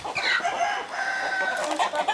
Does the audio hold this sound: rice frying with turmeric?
no